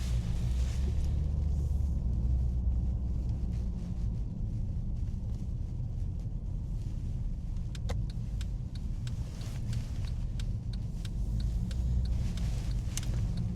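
A Toyota Aygo drives along a road, its cabin filled with a steady low engine and road rumble, and faint clicks and ticks appear over the drone.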